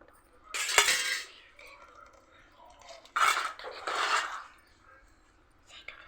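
A metal spoon clinks and scrapes against dishes in a few close, bright bursts separated by quiet gaps, with no clear talking.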